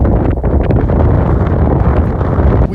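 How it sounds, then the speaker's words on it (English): Strong wind blasts across open sand dunes, a loud, continuous roaring buffet against the microphone with no break. "the wind is already ripping"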